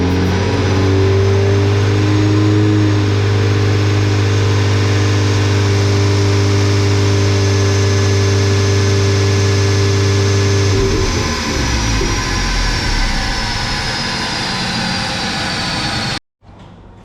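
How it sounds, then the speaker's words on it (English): Audi S3 8L on a dyno running a Revo stage 1 map, its engine droning loud and steady under load for about ten seconds, then dropping in pitch and fading into a rougher rumble before cutting off abruptly. "I'm gonna roll the footage now of Nick running the car on the dyno on that base map"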